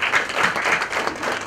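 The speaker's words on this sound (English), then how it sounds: "we should give a very warm applause to our top 3 dignitaries of Kerala State" An audience at a chapter-opening event in Thiruvananthapuram applauds Kerala State dignitaries, a dense burst of clapping from many hands heard up close for a brief moment.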